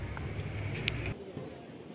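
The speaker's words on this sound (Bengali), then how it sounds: "এখানে একটি চত্বর আছে যেখানে অনেক পায়রা বা কবুতর আছে।" Pigeons coo in a busy square near the Gateway of India in Mumbai; a brief, faint low cooing lasts about a second over soft outdoor ambience before cutting away.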